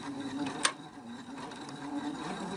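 A sewing machine stitches steadily over elastic on a homemade decorative fabric face mask, a close, fairly quiet continuous mechanical whir with a brief click partway through.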